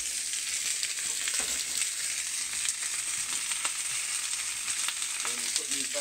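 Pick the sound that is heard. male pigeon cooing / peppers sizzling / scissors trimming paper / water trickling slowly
peppers sizzling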